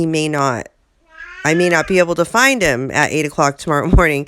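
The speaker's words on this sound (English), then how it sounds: "I'm sorry about the cat in the background." A male house cat confined indoors meows repeatedly and insistently to be let outside, loud and close, its long drawn-out calls overlapping a person talking in a home kitchen.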